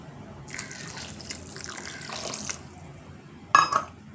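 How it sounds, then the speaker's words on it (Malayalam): Boiling water splashes and pours into flour in short bursts, with a brief louder splash near the end; a close, wet liquid sound over quiet room noise. "നല്ല തിളച്ച വെള്ളം ഒഴിച്ച് ഒന്ന് കുഴച്ചെടുക്കാം"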